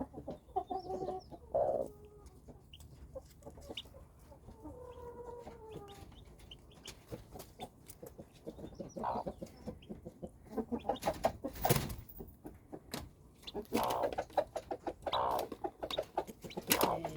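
Chickens cluck and chirp in a coop of young chicks and hens, scattered short calls close by with bursts of busier clucking, no talking.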